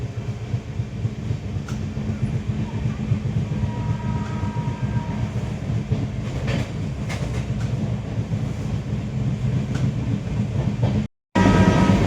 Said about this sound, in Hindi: हमारी ये लगभग 20 मिनट लेट चल रही है ट्रेन